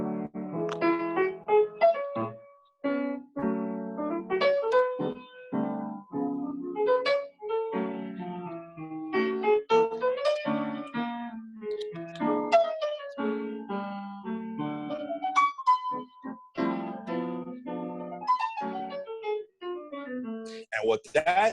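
A jazz piano plays a melody supported by chord harmonies, with clear separate notes and chords rising and falling in phrases, played alone with short pauses between them.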